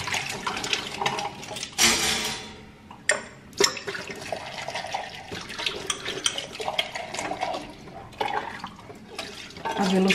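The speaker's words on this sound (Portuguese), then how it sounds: "Velocidade dessa água tá quase parando." Weak trickle of water from a household tap during a water shortage, thin running and dripping with occasional clinks of dishes, while someone talks over it.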